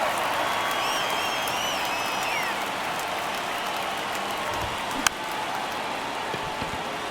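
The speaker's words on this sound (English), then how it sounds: "you can feel this crowd waking up a bit here" A stadium crowd in the baseball video game MLB The Show 23 murmurs and rustles as a steady broadband din, with a brief sharp crack partway through.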